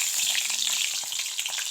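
Oil sizzles and crackles steadily in a hot pan while eggs fry for an egg curry, a close, continuous frying hiss with no voices.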